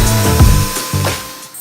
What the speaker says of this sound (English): I'm just using a Dremel tool here to remove the excess bottle cappage.